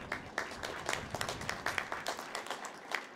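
Applause from a college commencement crowd, a steady wash of many hands clapping with distinct sharp claps standing out, fairly distant and moderately quiet, with no talk over it.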